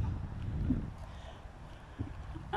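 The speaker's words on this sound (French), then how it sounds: "Je sais pas si vous entendez le vent." Wind gusts outdoors in open countryside with vineyards and forest, rumbling low and uneven against the microphone, swelling and easing across the short stretch, with a louder buffet at the end.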